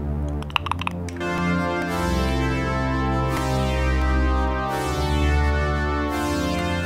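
Synthesizer chords from a dance track production sustain in long, full layered swells with a slow attack and delay, a brief clicky burst at the start, loud and continuous with no talking.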